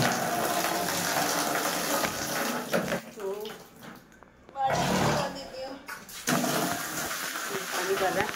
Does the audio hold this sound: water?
yes